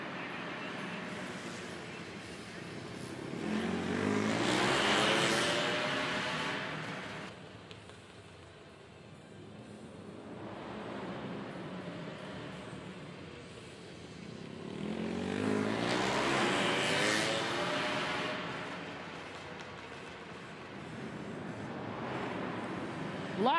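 Racing motorcycles on a flat track at the Flat Out Friday event of The One Motorcycle Show in Portland, Oregon, swell past in two loud engine passes, each rising and fading over a constant crowd-and-engine background.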